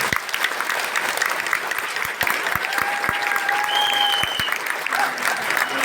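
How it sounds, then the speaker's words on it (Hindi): A crowd applauds steadily and loudly throughout, a dense wash of clapping with a few sharper individual claps standing out. "उसके लिए एक दिल से और जोरदार ताली होनी चाहिए दोस्तों"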